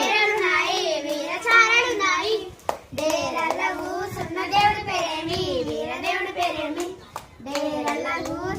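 Hands clap along to group singing of a Kamudu festival song, children's voices among the singers. Steady claps run beneath the continuous melody, with a short pause near the middle.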